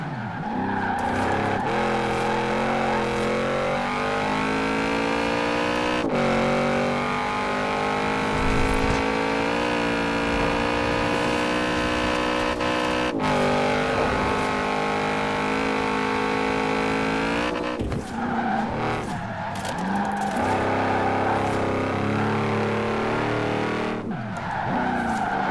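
A car in Forza Horizon 4, driven with a steering wheel and manual gears, roars continuously at close range, its engine pitch climbing and dropping through gear shifts while tires squeal and skid through corners.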